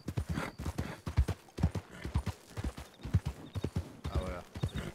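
Close, continuous clip-clop of a nervous horse moving restlessly, irregular hoofbeats thudding steadily for several seconds with a faint whinny-like edge.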